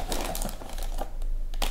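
Plastic packaging crinkles and rustles in quick irregular bursts while a Lego City 60390 set box is opened, close up and fairly quiet.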